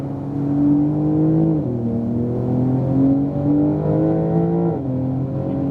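A 2018 Porsche 911 Turbo S accelerates hard on a race track, its engine note droning and climbing in pitch. The note drops sharply at two upshifts before rising again, loud and close.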